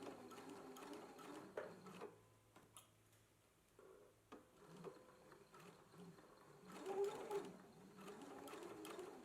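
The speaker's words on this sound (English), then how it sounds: "we can go ahead and stitch it in place, stitching close to the fold" A sewing machine stitches a continuous lap along a folded, pressed edge in quiet, intermittent bursts of fast ticking whir with brief pauses between runs.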